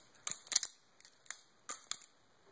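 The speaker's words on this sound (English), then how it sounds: "It's going to make noise when you're flipping it, but it's not overtly loud." A Bladeops Silver Whale balisong knife flipped by hand, giving several quick bursts of light metallic clicks and clacks in a loose rhythm, close and fairly quiet, with short pauses between the flips.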